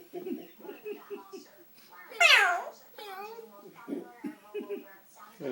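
An orange-winged Amazon parrot mimics a cat's meow, giving a loud, rising and falling meow in the middle, with softer chattering calls before and after it.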